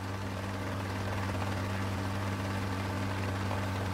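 A helicopter engine and rotor in the video game Rising Storm 2: Vietnam give a steady, loud, droning whir with a constant low hum that stays unbroken throughout, with no voices.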